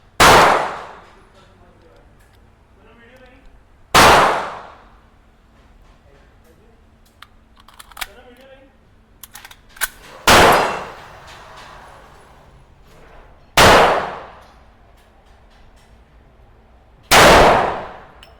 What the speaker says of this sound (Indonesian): Desert Eagle 44 Magnum.